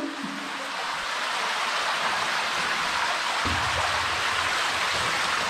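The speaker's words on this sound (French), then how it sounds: "On s'entend plus avec le vacarme de cette cascade." A waterfall roars inside a WWI German tunnel with a constant, loud rush of water that fills the whole clip without letting up.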